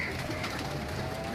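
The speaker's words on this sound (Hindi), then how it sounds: "ये सलारे टैडी कबूतर हैं" Salara Teddy pigeons in Lahore give low, rolling coos close by, a continuous soft murmuring with faint chirpy notes mixed in.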